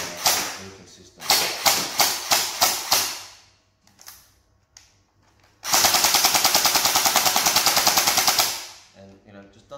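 A JinMing AK47 J11 toy gun gearbox fires full auto, first in a short run of about seven evenly spaced bursts, then after a quiet pause in a long, rapid, steady rattle lasting around three seconds before it stops.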